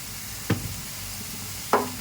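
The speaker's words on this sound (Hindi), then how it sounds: "अब इसको अच्छे से भूनते हैं कि मसाला हमारा अच्छा सा सॉफ्ट हो जाए" Masala and tomatoes roast in a pan with a low, even sizzle, broken by two sharp knocks of a spoon against the pan.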